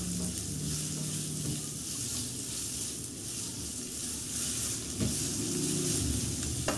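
Steady sizzling of minced chicken frying in a pan, with occasional scraping and stirring sounds over a constant hiss.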